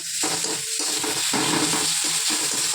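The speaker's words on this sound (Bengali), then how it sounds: "পেঁয়াজটা দেখি হয়ে গেছে ভাজা" Onions fry in hot oil with a continuous, dense crackling sizzle, close and fairly loud, rising and thinning slightly in waves as the pan is stirred, with no voices.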